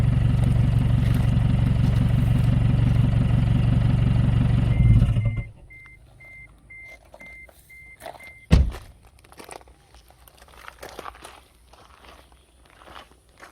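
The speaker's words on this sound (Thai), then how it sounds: "เดี๋ยวฟังเวลาดับเครื่องนะครับ" An Isuzu D-Max pickup with a modified straight-through exhaust idles loudly and close for a few seconds, then cuts off abruptly, leaving quiet background with a faint beeping and a thump.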